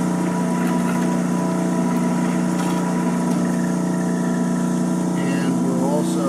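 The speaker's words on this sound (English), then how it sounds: "you'll see that the agitators are now running much slower" Lab turbo emulsifier agitators from Pressco turn slowly at about 7 RPM, giving a steady, loud mechanical hum with a constant drone and a brief voice near the end.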